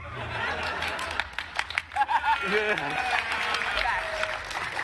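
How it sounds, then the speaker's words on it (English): A small crowd claps steadily for several seconds, with scattered chuckles and a few voices mixed in. "You guys will clap for anything."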